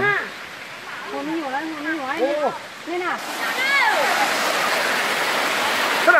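At the rural Tadkha waterfall near Nonghet, Laos, a voice talks at first, then a steady, loud rush of falling water takes over and fills the rest.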